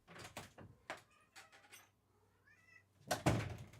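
A pet cat meows several times in a small indoor room, short close calls with brief gaps, followed by a louder knock or bump near the end.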